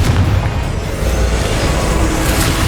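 A short, loud burst of Confringo explosive spell fire in Hogwarts Legacy, a deep booming blast with a rumbling tail that fills the moment with no talk.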